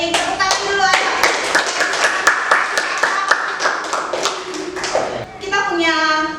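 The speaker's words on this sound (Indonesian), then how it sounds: "Tepuk tangan dulu ayo." A group claps their hands in a steady, sharp rhythm in a junior high school classroom group counseling session, with voices chanting and talking over the claps throughout.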